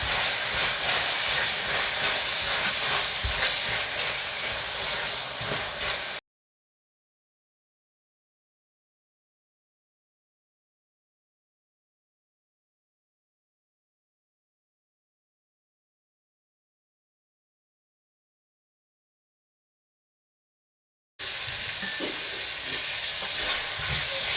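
Lamb mince and chickpea keema cooks down in a pan with a loud, steady sizzling hiss. It runs for several seconds, drops out into a long stretch of total silence, then returns at the end.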